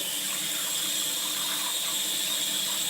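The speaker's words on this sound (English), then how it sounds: "This is a beautiful lemon. I'm gonna rinse them off a little" Tap water runs steadily over lemons being rinsed, a continuous bright hiss and splash, close and even with no voices.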